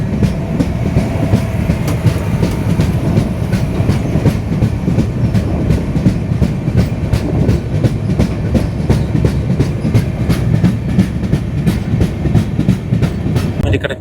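A passenger train running on rails between Hyderabad and Tirumala, with a loud continuous rumble and rapid rhythmic clickety-clack of wheels over rail joints, close and steady for the whole stretch.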